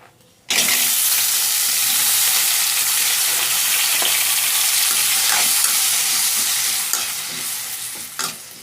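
Four or five tomatoes dropped into hot oil in a pan, a sudden loud sizzle bursting in and holding steady, with occasional stirring knocks before it gradually eases.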